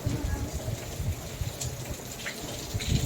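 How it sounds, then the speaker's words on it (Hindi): Heavy monsoon rain pours onto a rooftop as a steady, dense wash of hiss and patter, with water splashing nearby and a voice speaking intermittently over it. "और इतनी ज़्यादा बारिश हो रही है।"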